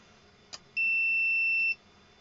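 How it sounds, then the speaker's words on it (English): A Brymen BM2257 digital multimeter on its diode/continuity test gives a short click followed by a steady, clear electronic beep lasting about a second, close and alone against a quiet background. "for the valid diodes we've got the little short beep, and for the short we've got the constant beep"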